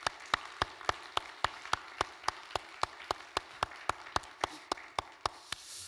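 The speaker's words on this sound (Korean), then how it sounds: "우리 박수로 한번 격려하고 시작하면" Distinct, evenly spaced claps ring out at a steady rhythm in a church youth service, clear and fairly close, about three per second over a quiet background, as if a congregation were clapping in unison.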